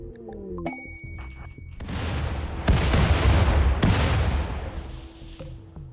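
Doomsday rockets exploding in RimWorld, a dense roar of blasts with sharp heavy booms around the second and fourth seconds over a continuous rumbling barrage. A few tonal pings and dings come first.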